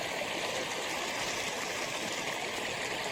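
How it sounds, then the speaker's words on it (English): Steady, close rush of a flowing river, broad and continuous with no breaks, heard on its own without voices across the whole stretch. "Yeah, welcome to the river."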